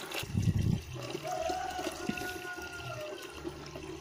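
Well water pours into a container in a steady, close trickle and splash, with a brief louder gush near the start and quiet background sounds around it.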